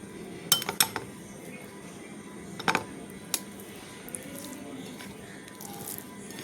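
Cutlery and dishes clink sharply against a plate as someone eats bang fish curry with hot rice, a few scattered metallic taps over a quiet room, no talking.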